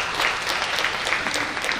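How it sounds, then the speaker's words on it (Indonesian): An audience at a business seminar applauds in a short burst of steady, dense clapping that fills the room, close and even, with no talking over it. "Tepuk tangan untuk mereka"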